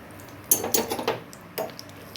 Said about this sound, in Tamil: இந்த பாதாம் போட்டுக்கலாம்